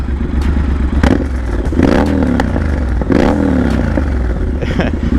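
A loud Triumph Scrambler 1200 XE motorcycle with a D&D Free Spirit aftermarket exhaust idles roughly when warmed up, with a couple of brief throttle blips rising and falling.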